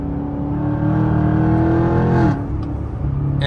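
Chevrolet Camaro Super Sport engine revving hard on a paddle-shift downshift from sixth gear, a loud sustained droning roar that climbs in pitch, then drops off sharply as the revs fall, heard from inside the car.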